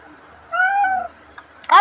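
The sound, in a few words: cat meowing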